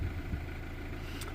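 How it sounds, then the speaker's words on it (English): A neglected Mazda 2 1.5 diesel idles close by after a long warm-up, a steady low rumbling chug with even knocking pulses and no voices. "Okay, the car has been here idling for about, I don't know, maybe 45 minutes maybe"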